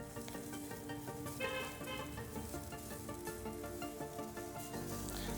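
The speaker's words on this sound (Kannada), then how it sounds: "ಚೆನ್ನಾಗಿ ಫ್ರೈ ಮಾಡಬೇಕು, ಅದೇ ಇಂಪಾರ್ಟೆಂಟ್." Okra frying in a pan with turmeric and salt, a soft continuous sizzle beneath louder steady background music, quiet and unbroken throughout.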